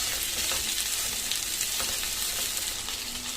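Okra pieces fry with tomatoes in a pan and are stirred, giving a continuous close sizzle with soft scraping strokes throughout and no talk.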